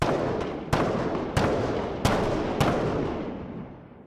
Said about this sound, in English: And here we have the outdoor tail.